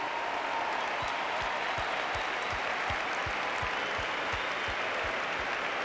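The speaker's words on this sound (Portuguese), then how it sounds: "Vamos aplaudir os nossos instrumentistas aqui?" An audience at a church congress applauds its instrumentalists with dense, continuous clapping from a sizeable crowd, steady and even, with a rhythmic low thump underneath.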